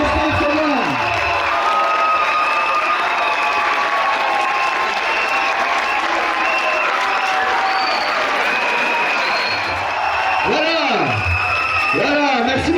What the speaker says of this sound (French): tous les conseillers, s'il vous plaît, on les applaudit